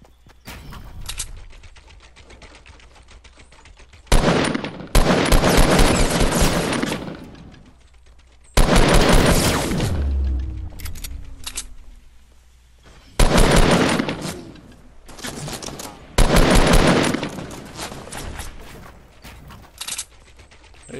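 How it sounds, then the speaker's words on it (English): Gunfire in the video game Fortnite, rapid automatic bursts in several loud clusters separated by quieter stretches, with no talking over it. "there's gunfire behind us"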